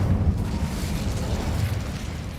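An Incendio fire spell goes off in a video game with a loud, sustained, roaring burst of flame and rumble that holds steady for about two seconds and has no talk over it.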